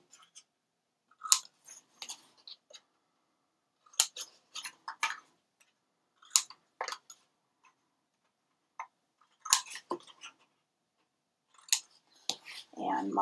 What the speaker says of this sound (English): We're going to go ahead and cut out the corners on these as well.